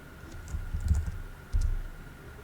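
Someone types a few short bursts of keystrokes on a computer keyboard, soft and close, with quiet pauses between the clusters of clicks.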